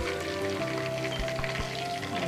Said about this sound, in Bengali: তারপর বাকি যে চিকেনগুলো রয়েছে সেগুলো আমি সেমভাবে ভেজে নেব।